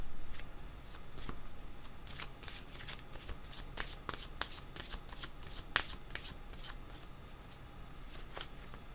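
Tarot cards shuffled by hand in a series of quick riffling bursts and crisp flicks, close and fairly quiet, repeating irregularly over several seconds without talk.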